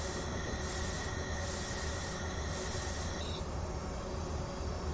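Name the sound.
train braking in Train Simulator Classic video game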